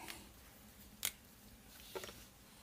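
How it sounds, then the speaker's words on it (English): Scissors make two short, faint snips while trimming a leather cushion for a rifle bipod mount, the cuts spaced about a second apart in a quiet room. "trim that a little bit more, just using scissors"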